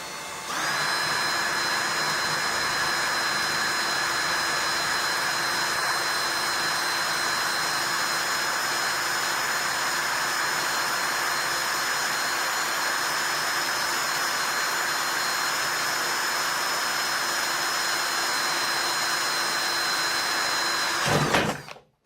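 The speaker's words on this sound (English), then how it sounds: "install this bit and then drill the hole" A power drill with a freshly installed bit bores a hole through metal, producing a continuous, loud, even whine at close range that runs uninterrupted for about twenty seconds before stopping abruptly.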